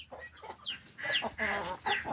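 A Texas fighting rooster clucks in a string of short, close calls with uneven pauses, loud and clear with no talking.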